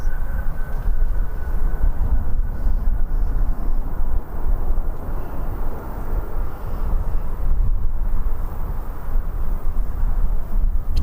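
A small Cessna lands at Birmingham Airport, a loud continuous low rumbling engine drone that stays steady and close throughout with no voices.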